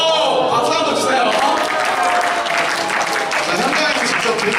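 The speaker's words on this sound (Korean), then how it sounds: "박수 한번 주세요." A church youth worship congregation in Auckland applauds, dense and loud clapping that fills the space evenly for several seconds before thinning slightly.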